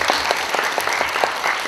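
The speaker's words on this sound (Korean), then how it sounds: "저 다 같이 박수 한 번만 다시" An audience at the 3rd SAC Next Top Model selection contest in Korea claps in sustained, dense applause, loud and steady throughout with no talking.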